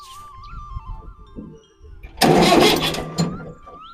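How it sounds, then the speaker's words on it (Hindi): A tractor engine cranks and catches with a sudden loud burst, roaring for about a second and a half before dropping back, after quieter low rumbling and faint background talk. "ट्रैक्टर ऐसा नहीं स्टार्ट होता"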